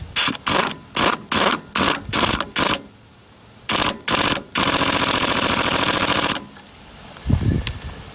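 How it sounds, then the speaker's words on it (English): A pneumatic impact wrench works on a John Deere 2520 ball joint, firing a rapid string of short hammering bursts, then a sustained rattling run of about two seconds, loud and close, before a brief clunk. "find out what size socket that takes and then zap it with the impact"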